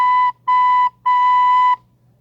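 Recorder notes started with the tongue: three clean, steady tones on one pitch with crisp attacks, two short and one held longer, loud and close with no talking.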